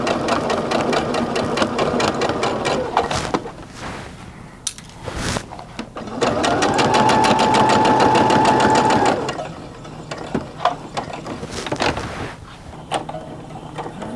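Sewing machine stitching cording around the edges of a patchwork piece, close and loud, running in steady bursts with a long continuous stretch in the middle and short pauses between runs.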